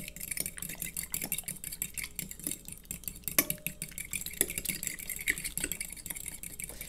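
Slime being stirred in a dish, giving a steady run of soft, wet scraping and clinking taps at close range with no talking.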